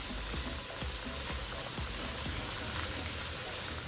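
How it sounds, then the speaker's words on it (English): Dense, continuous sizzling of salted pork frying in a pan, with faint scattered crackles under the hiss, steady and close. "Still got a bit more frying to do."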